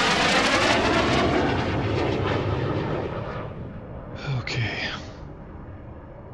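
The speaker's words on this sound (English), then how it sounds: "we'll go ahead and taxi into the line here" An F-5E jet engine in a flight simulator game roars loudly while the aircraft taxis, its broad whine slowly easing and fading, then a few short electronic cockpit beeps sound near the end.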